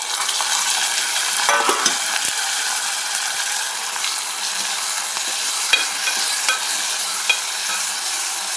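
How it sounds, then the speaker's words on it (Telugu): Onions and tomatoes frying in a pan for a beans masala curry, a steady bright sizzle with occasional scraping and stirring clicks, close and continuous. "ఆనియన్స్ అనేది వేగిన తర్వాత మనం ఇప్పుడు టమాటోస్ అనేది యాడ్ చేస్తున్నాము"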